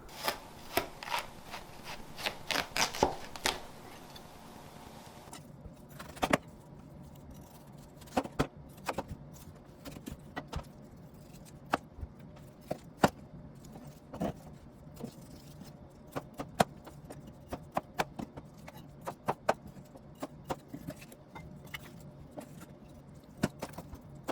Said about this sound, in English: We are going to chop this one. Be careful not to cut your fingers.